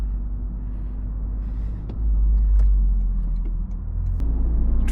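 A Toyota GR Corolla with a 1.6L engine rumbles from inside the cabin as the gears engage. A low drone swells to a louder, deeper growl about halfway through, with a few light clicks and no voices.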